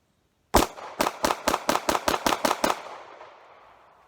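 Ten rapid gunshots are fired at a target in an even, quick rhythm, each one loud and sharp, with an echo that trails off after the last shot.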